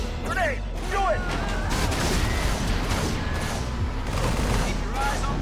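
Grenade blasts and rapid gunfire from a battle in the real-time strategy game Halo Wars, a loud, dense barrage of booms and shots with whizzing, whistling projectiles over steady low rumble.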